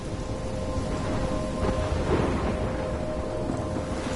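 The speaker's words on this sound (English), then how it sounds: "I'm trapped in a storm?" Steady heavy rain with a low rumbling thunderstorm, a constant dense wash of sound holding loud throughout with a slight swell near the middle, no voices.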